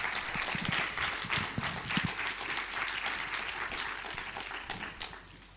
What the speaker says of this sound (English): Let's bring him to the stage. Round of applause.